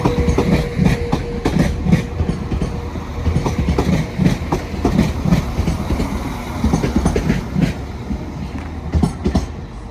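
A train passes at Sheffield railway station on the Midland Main Line, a close, loud rumble with regular clickety-clack wheel beats running throughout and no one speaking.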